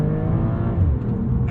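A 2023 BMW M340i Touring's B58 3-litre turbocharged six-cylinder hums with a smooth, slightly muted note, holding a low steady drone through the short burst.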